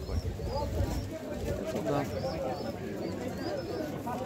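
Pigeons coo softly among the crowd noise of a rural village market, under steady background chatter from people nearby.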